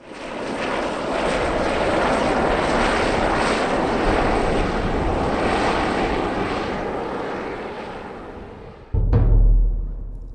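A helicopter flying over the Hardangervidda mountain plateau on a reindeer hunting trip gives a loud, steady rotor and engine roar for about nine seconds, then cuts off abruptly with a low thump.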